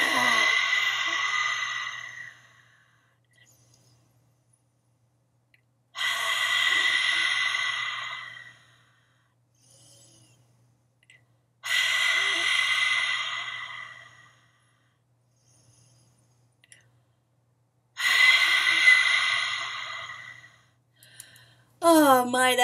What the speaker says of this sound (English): So it really is a push out, a forceful exhale.